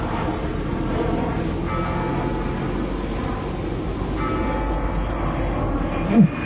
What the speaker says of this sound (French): Un avion qui arrive, ça paraît logique.